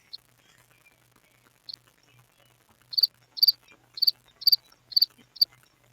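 Crickets chirp in short repeated bursts, a handful of bright pulses in a quiet room, fairly close and moderately loud.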